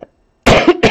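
A single harsh cough, close and loud, with a short second burst right after it.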